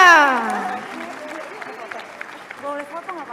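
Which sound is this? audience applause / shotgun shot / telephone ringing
audience applause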